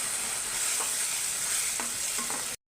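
Spice masala for a potato curry sizzles steadily in hot oil, a close, bright crackle with a few soft stirring scrapes, ending abruptly.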